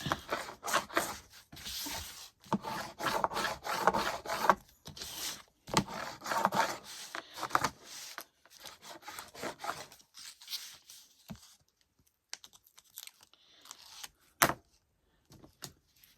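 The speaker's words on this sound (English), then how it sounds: "Then I make sure that's good and down. Burnish it." A glued surface is burnished by hand, with repeated close rasping rubs in uneven bursts, thinning out into a few isolated scrapes and one sharp tap toward the end.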